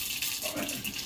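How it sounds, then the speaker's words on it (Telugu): Mustard seeds hit hot oil for a purslane chutney, giving a brief, close, bright sizzle that hisses steadily for about a second. "నూనె కలిపేసి ఆవాలు వేసుకుందాం."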